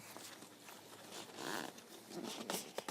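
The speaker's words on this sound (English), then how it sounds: "One PVC window in the side, and yet again that same sort of principle with the zip up and down features" The zip on the PVC side window of a Vango Serenity tent is pulled along its track in several quick, ragged rasps, close and quiet, with no one talking.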